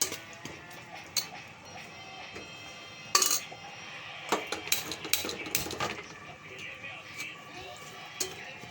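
Masala spices of turmeric, chilli powder, coriander powder and garam masala sautéed in a pan, with sharp scattered clinks and scrapes of a utensil against the pan over a faint background hum.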